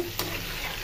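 Eggs frying slowly in oil on a low gas flame give a soft, steady close sizzle through the short stretch, with a brief stir-like scrape near the start.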